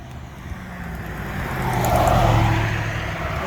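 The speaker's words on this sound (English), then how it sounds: "A lot of cars." Cars and trucks rush past on busy Blue Ridge Mountain Road, a swelling roar as one vehicle draws near and fades, over continuous traffic noise heard from the roadside.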